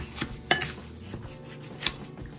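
Egg, breadcrumbs and ground beef being mixed together in a bowl for meatloaf, soft close squelches with a couple of sharp clinks of a utensil against the dish.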